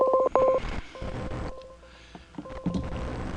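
Telephone keypad dialing tones from a phone switch while paging a caller, a quick run of short beeps at the start followed by softer line tones and faint clicks.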